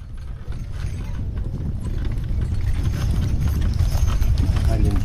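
Horses at the Expo Lachute agricultural fair, with hooves clip-clopping steadily and close by under a busy outdoor din, growing louder as they near; a voice talks over part of it.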